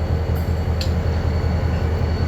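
Steady low rumble of a CN freight train on the tracks in Nova Scotia, a constant heavy drone with a couple of faint metallic clicks, no voices.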